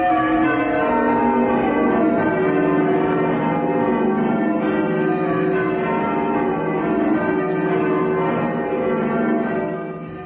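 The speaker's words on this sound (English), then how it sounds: "we get the full-throated sound of the bell coming out" Durham Cathedral's bells ring in full circle, continuously in a dense, rich wash of overlapping tones, loud and sustained without pause.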